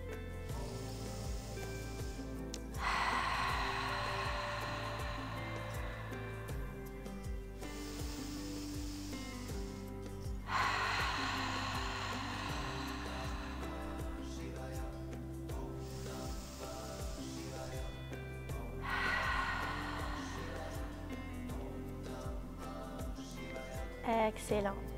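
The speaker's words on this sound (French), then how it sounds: "On va commencer à produire le son des vagues à travers de notre respiration." Ujjayi breathing during an outdoor yoga class: slow, ocean-like throat breaths rise and fall in roughly four long cycles over steady ambient sound, with a voice guiding between breaths.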